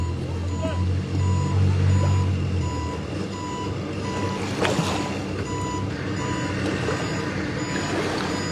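A truck backs up with steady, repeating reversing beeps while pulling a Corolla out of a lagoon, the engine rumbling underneath and a brief clank midway; a voice talks over it.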